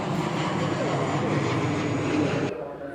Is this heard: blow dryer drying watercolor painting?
no